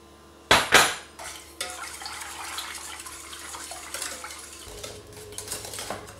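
A spoon clanks sharply against a metal pot twice, then custard cream is stirred on the stove with soft, continuous scraping and light clinks, close and without talk.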